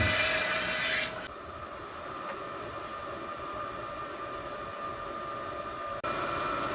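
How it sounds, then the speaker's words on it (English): Water rinses out a beer keg in a steady rushing hiss that starts and cuts off abruptly, with a duller stretch of spray in between. "Start with a rinse."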